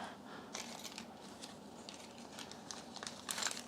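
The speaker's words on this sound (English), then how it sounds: "I put them in that plastic bag." Small screws go into a plastic bag by hand, giving faint, close crinkling and rustling with light ticks, soft and continuous, with a slightly louder rustle near the end.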